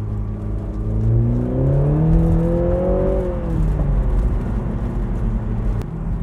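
BMW Z4 20i sports car (2020, G29) engine revving and accelerating nearby, a rising and falling drone with faint pops and crackles from the exhaust, no talking.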